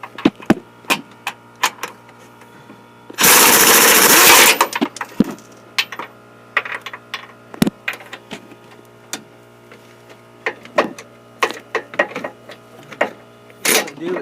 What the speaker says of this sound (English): So we've got a air gun that we're going to use to bolt it.